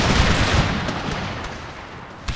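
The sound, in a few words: musket volley fire from grenadiers in Empire Total War video game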